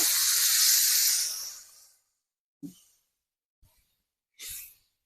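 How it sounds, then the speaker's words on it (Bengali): Water poured into a hot pan of garden beetroot and carrot curry sets off a loud, close hiss that fades over about two seconds, followed by a few short, softer sputters. "দেখো এবার আমি জল দিয়ে দেবো এর মধ্যে একটু"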